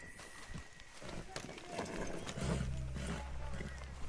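Horse galloping in the video game Red Dead Redemption, a steady clip-clop of hooves under a low rumbling bed, with someone talking over it.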